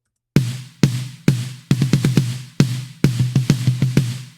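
Triggered snare drum from a Slate Trigger 2 sample, hit in a rhythmic pattern of single strokes and quick bursts, each sharp and punchy with a short ringing tail, close and loud with no talking.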